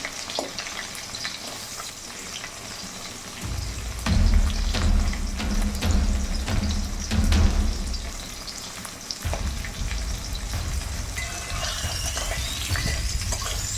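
Crabs fry in mustard oil in a wok, a close, dense crackling sizzle that surges louder and heavier as pieces go in, then settles into a steady bubbling fry with occasional clatter.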